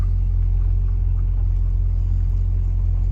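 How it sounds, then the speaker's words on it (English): A 1972 Ford Thunderbird's 429 four-barrel V8 idles with a deep, steady low rumble, close and unchanging throughout, no voices. "this car has the 429 four-barrel engine"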